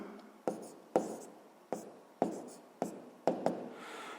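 Pen on paper writing out a sixth-grade maths solution, a series of about eight sharp taps and strokes at an uneven pace, close and quiet.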